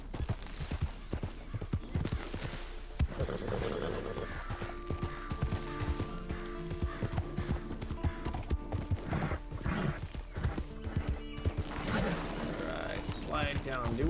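Horse hooves clip-clop steadily while riding in the game Red Dead Redemption 2, a continuous rhythmic trot with an occasional whinny, heard under game sounds and someone talking.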